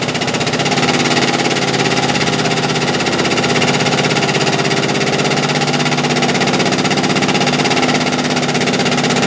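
The engine of a Timberpro 830 forestry machine runs at full throttle, a loud, close, unbroken roar with a rough mechanical rattle that holds steady throughout, with no voices.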